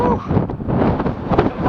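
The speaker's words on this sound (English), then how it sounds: "That desert wind. Like courage the cowardly dog. It's all windy, right?" Desert wind blowing steadily across an open microphone, a continuous broadband rush and buffeting that swells and dips in loud gusts throughout, close and dominant.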